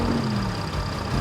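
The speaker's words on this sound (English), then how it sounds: "Listen to those engines roar." Tank-like toy vehicle engines at a race starting line, a steady, loud mid-low idling rumble with a faint whine, no voices present.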